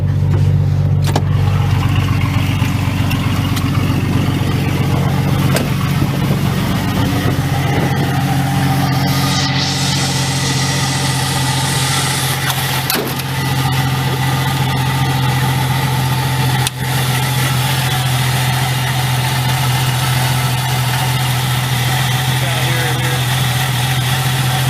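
A Jeep Cherokee with bad alternator bearings idles steadily and loudly, a constant engine drone with a faint high-pitched whine beneath it, and occasional clicks and shifts in tone.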